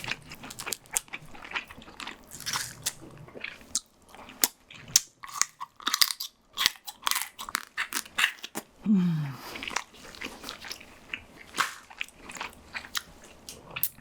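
Someone bites into king crab still in its shell, with irregular crunches and wet, close chewing clicks and smacks in scattered bursts, plus a few brief quiet gaps between bites.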